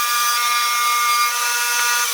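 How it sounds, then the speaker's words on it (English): A small battery-operated trim router with a 1/8 inch roundover bit, rounding the edges of internal holes in wood, giving a steady, loud, high-pitched whine for a couple of seconds with no voices. "trim router set up with that same 1/8 inch roundover bit, and now I'm going to use it to do the internal holes"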